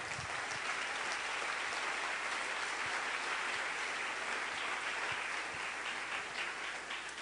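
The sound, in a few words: congregation applause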